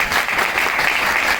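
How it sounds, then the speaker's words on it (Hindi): Dense, steady applause from a seminar audience at a Hindi-language network marketing talk, filling the whole moment loudly and evenly with no voices over it. "जबरदस्त तालियां दो।"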